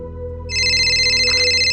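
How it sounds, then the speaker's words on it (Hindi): A phone ringtone starts abruptly and rings loud and steady, a bright electronic tone sustained over a low background hum. "फ़ोन किसका आ रहा है?"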